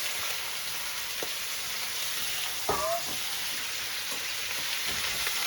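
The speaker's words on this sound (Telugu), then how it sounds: "ఈ చట్నీకి టేస్ట్ వల్ల ఇలాగా ఆయిల్లో కొబ్బరిని ఫ్రై చేయడమే అంత టేస్ట్ వస్తుంది" Grated coconut fries in oil for a chutney, giving a steady soft sizzle with occasional stirring clinks and scrapes, close and fairly quiet.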